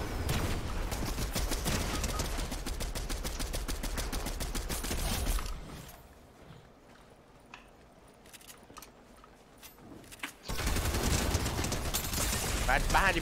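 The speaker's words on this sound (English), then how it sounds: "fireworks going off outside my door and I didn't expect it." Fireworks go off outside in two long bursts of rapid crackling pops, loud and dense, separated by a quieter stretch, with people talking through it.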